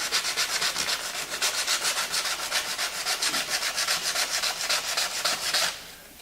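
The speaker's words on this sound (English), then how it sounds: "most people will opt to go with sandpaper. You know, this is 120 grit stuff here" A plastic model canopy is sanded by hand with 120 grit sandpaper, giving steady, close, rhythmic rasping strokes that keep a fast even pace before stopping near the end, with no talk over them.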